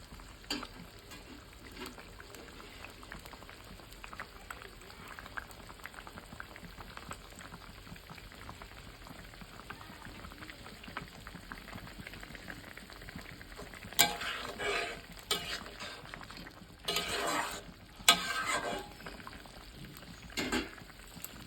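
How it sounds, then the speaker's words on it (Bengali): Fish curry with coriander leaves simmering in a pot, a quiet, soft bubbling hiss throughout, broken near the end by a few louder bursts of stirring. "এখন আমি ধনে পাতা দিয়ে জাল দেব"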